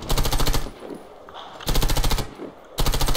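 Automatic gunfire from a weapon on the shooting range in the video game Warface, sounding as loud, rapid bursts with short pauses between them, alone without talk.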